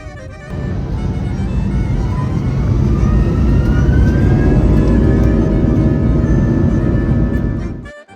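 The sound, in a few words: airliner departing Tirana Airport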